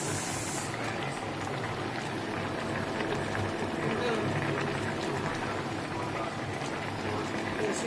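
Potatoes boiling in a pot, their soft edges breaking down, give a steady close bubbling and rushing hiss that runs without a break, with a voice faintly present underneath.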